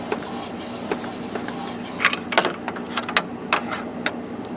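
A Canon TS9520 inkjet printer prints directly onto a CD, giving a steady mechanical whir punctuated by repeated clicks and sharp carriage clacks, heard up close with no voices.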